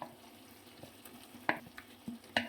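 Fried potato pieces go into a simmering pot of country chicken curry, giving a few sharp clinks and brief sizzling bursts over a low steady bubbling, close and alone.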